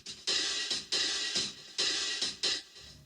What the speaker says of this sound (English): So we have these hi-hats in the Oversat patch